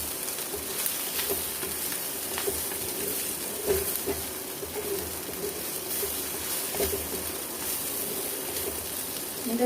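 Idli pieces sizzling and frying in a pan as they are gently stirred, a soft steady crackle with occasional scrapes and taps of the spoon, fairly quiet and continuous.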